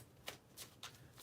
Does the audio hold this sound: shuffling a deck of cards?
yes